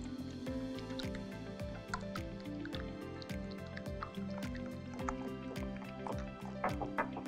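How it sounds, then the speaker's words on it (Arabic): Eggs whisked in a bowl for crème caramel make a quiet, fast, even, wet slapping beat that continues without a break throughout. "في نفس البولة هنجيب مضرب، نضرب البيض بتاعنا ده الاول كده"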